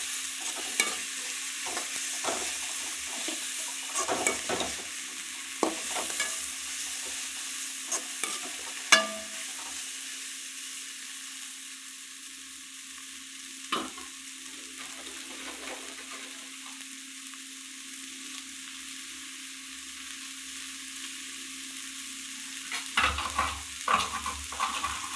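Vegetables with chilli powder and garam masala are stirred in a hot pan: a low, continuous sizzle broken by repeated scrapes and knocks of the spoon, clustered at the start and again near the end, close and unaccompanied by speech.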